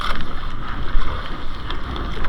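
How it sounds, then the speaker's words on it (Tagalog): Wind and rain at sea aboard a small fishing boat out for lobster, with loud buffeting gusts hitting the microphone over a rough low rumble of water and spray. "Ulan, dala pang hangin."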